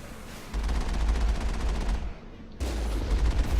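Several turrets in Mass Effect fire rapid continuous bursts, a dense rattling volley that stops briefly and then starts again, loud and close.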